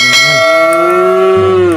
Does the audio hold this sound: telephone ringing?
no